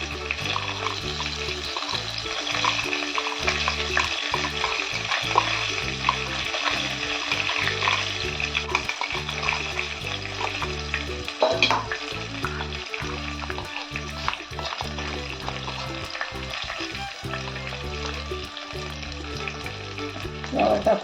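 Cumin tempering in hot oil gives a dense, continuous sizzle with crackling pops, loud and close, holding steady for about twenty seconds.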